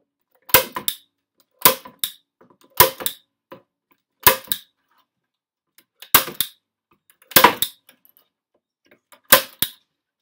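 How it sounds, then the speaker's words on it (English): A staple gun fires as wire is fastened to a message board, sharp loud snapping clacks, seven separate shots spaced about a second apart, each trailed by faint handling clicks, no talk. "get my staple gun out"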